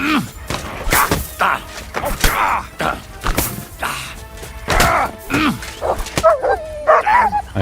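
A dog yelps and whimpers after being struck in Kingdom Come Deliverance 2, short sharp cries mixed with thuds and a voice talking loudly over the game sounds.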